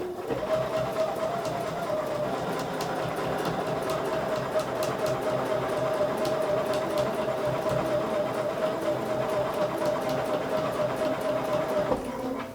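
A sewing machine stitching through a quilt sandwich runs in one continuous, close, even whirr with a steady mechanical hum for about twelve seconds, then stops.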